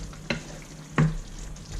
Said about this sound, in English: stir those in and get those starting to soften up